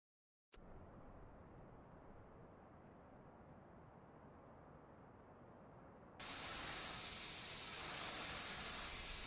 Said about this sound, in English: Hand tools, air blower.